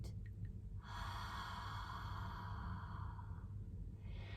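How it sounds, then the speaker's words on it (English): One long, slow breath is drawn in and let out, soft and close, against a low steady hum. "take a deep cleansing breath"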